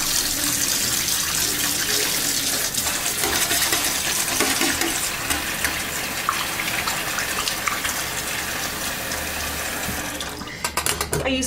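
Hot tap water gushes steadily into a stoppered sink over a little lanolin for washing a wool soaker, a loud, close, continuous rush that cuts off near the end.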